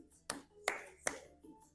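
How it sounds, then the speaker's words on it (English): Three crisp hand claps land at an even pace, followed by a softer fourth, keeping a salsa beat in a beginner dance lesson; close, dry and fairly quiet. "And see how a clap matches."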